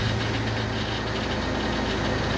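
A boosted car engine running at a steady idle just after being fired up with a start button, a close, continuous rumble with no pauses or voices.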